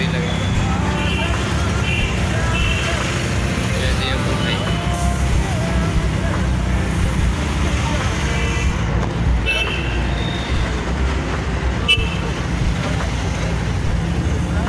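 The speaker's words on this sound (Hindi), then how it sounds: "यहाँ तो दगड़िया ट्रैफिक लग चुका है" Road traffic jam beneath a flyover: a dense, steady rumble of idling and crawling vehicles with occasional horn toots, close and continuous, with someone talking over it.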